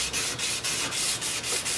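Sanding pad rubbed along a sword blade and into its fuller, a steady hiss in smooth repeated strokes with brief gaps between passes, close and alone.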